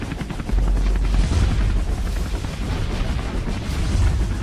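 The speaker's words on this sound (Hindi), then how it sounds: "अपनी रॉकेट पटाखा जीप से रॉकेट फायर करता है" Cartoon rockets fired from a jeep: a dense, rumbling barrage of blasts and whooshing roar, loud and continuous, with low booming thuds pulsing underneath.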